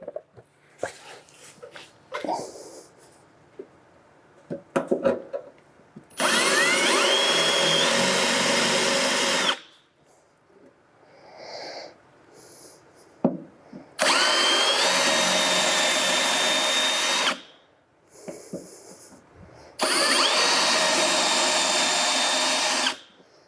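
A power tool cuts out spot welds in rusty car body metal, running in three sustained loud bursts of several seconds each, with quieter handling clatter and pauses between them.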